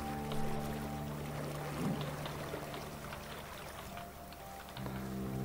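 Flowing river water in the block-building video game Creativerse makes a soft, continuous rushing wash with faint trickling, under a low steady hum, fairly quiet throughout.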